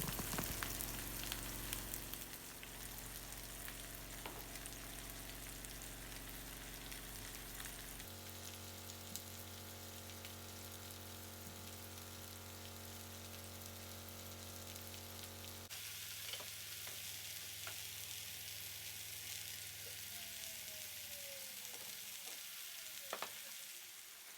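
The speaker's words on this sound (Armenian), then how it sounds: "հիմա կլցնեմ տապակի մեջ, սկզբում սունկը մի թեթև կտապակվի" Sliced mushrooms frying in a pan, a steady close sizzle and crackle running continuously, with occasional stirring scrapes and fading slightly toward the end.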